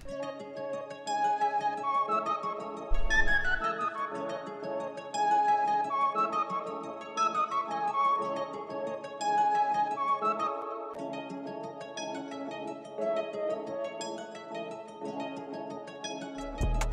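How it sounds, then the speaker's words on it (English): A dark, moody music sample blends guitar, an ambient bell and flute in a slow, looping melodic pattern at moderate level, with occasional low thumps and no speech. "And so with all the sounds together, the guitar, the ambient bell, and the flute, it sounds like this."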